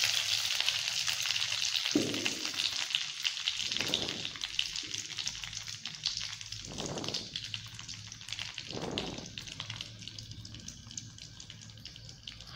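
Mustard seeds spluttering in hot oil while Kerala mango pulissery is cooked: a steady crackling hiss of dense small pops, close, with a few lower soft thumps and no talk.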